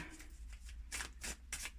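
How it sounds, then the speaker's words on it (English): Tarot cards being shuffled for a reading, a run of soft riffling bursts close by, with a few sharper flicks toward the end and no speech. "Shuffling the cards, shuffling the cards."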